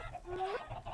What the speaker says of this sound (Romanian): Ia bagă găini aici.